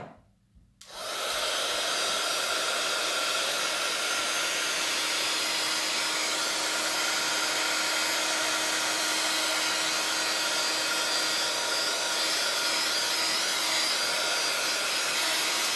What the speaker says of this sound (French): je reprends juste mon heat gun 5 petites secondes pour réchauffer un petit peu, être sûr que c'est bien sec